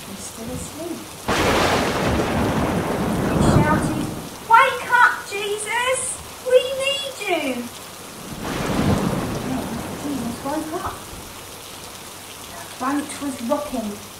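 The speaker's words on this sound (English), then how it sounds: "Then the thunder rumbled and the friends were really frightened." A thunderstorm with rain and thunder rolls in two long, loud rumbling swells over a steady hiss, while people talk and call out between and over the storm.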